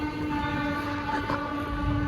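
A train waits at a station before setting off, giving a moderate, steady mechanical hum with faint tonal whine and low rumble, constant throughout with no voices.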